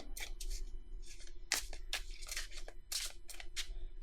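A tarot deck being shuffled by hand, a series of crisp riffling bursts in an irregular rhythm, close and clear against a quiet room.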